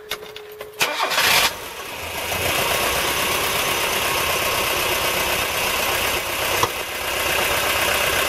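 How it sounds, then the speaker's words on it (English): A 1988 Mazda van engine cranks and catches on a cold start, then settles into a loud, steady, slightly rough idle close up, with a sharp knock near the end. "it's a better cold start than it had last time"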